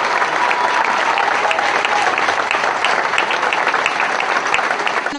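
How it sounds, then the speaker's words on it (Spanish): Sustained, dense applause from a crowd at a recognition ceremony honoring Lorenza Benítez de Gómez, steady and loud throughout with no break and no voices standing out. "El aplauso ahora que homenajea a Lorenza Benítez de Gómez"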